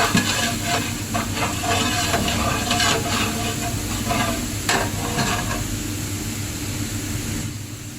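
Tomatoes cooking in a pan with browned ginger garlic for dal makhani, a steady close sizzle and hiss with scattered stirring scrapes and clinks, slowly easing toward the end.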